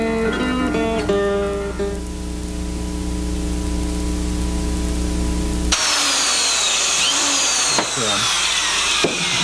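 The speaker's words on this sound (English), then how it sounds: "Drilling a hole for the nails." An electric drill bores holes for temporary nails in a wooden dulcimer form, starting partway through after a steady tonal hum and running loud and close with a rising, whining motor pitch.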